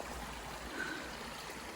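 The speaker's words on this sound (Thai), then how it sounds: "ลำคลองกลางป่า น้ำตกกลางป่าสวยมากค่ะ" A forest stream flows steadily with a soft, continuous watery hiss and faint trickle, moderately distant and fairly quiet, with no voices.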